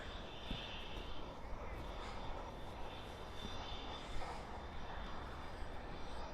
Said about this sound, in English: Right there, that is an Embraer EMB